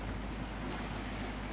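A sailboat running under engine through choppy waves, with a low steady motor hum and broadband wash of water and wind, close and unbroken for a brief moment.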